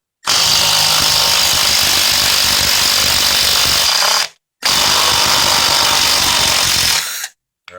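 A Milwaukee 12V impact driver runs in two loud bursts, the first about four seconds and the second about three, with a short silent gap between them and no talking.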